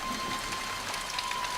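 Rain drips and patters off leaves in the Amazon rainforest as a soft, even, dense hiss with scattered drops over a short stretch, with no voices and a faint steady tone underneath.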